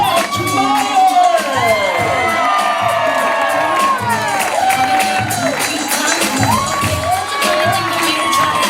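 Wedding reception crowd cheering, whooping and shouting for the newlyweds, a loud continuous roar of many voices with some clapping, close and lively for the whole stretch.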